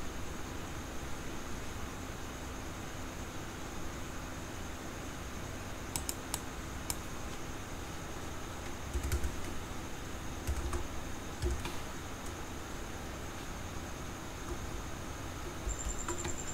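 Keys on a computer keyboard tap in quick irregular bursts during a marketplace website setup, faint clicks over a steady background hiss, with no talking.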